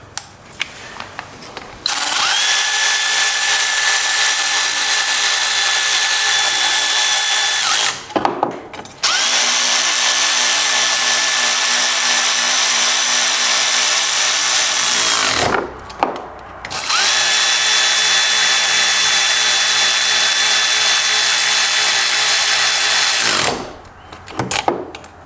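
A power tool drives down the engine head bolts on a 1996 Honda Fourtrax 4x4 ATV. There are three long, loud, steady whirring bursts separated by short pauses.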